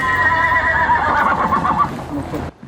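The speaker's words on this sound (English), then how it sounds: "At least a dozen horses scoured the trails and mountain." A horse whinnies loudly and close by during a search across mountain trails, a long shaky neigh that fades out toward the end.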